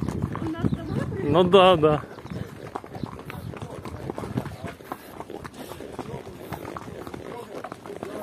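Horse hooves clip-clop in an uneven walking rhythm during a mountain horse ride in Arkhyz, moderately close, with a brief spoken exchange early on.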